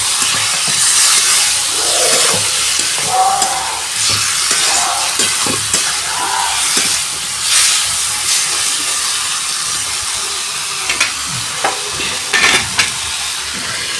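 Mutton curry fries and sizzles in a pan while being stirred, a steady close hiss with repeated scraping and clinking strokes throughout, no talking.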